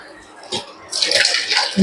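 Pepper rasam is poured from a pot into a bowl: a brief splash, then a denser liquid pour and slosh lasting under a second, close and fairly loud, with a clink at the end.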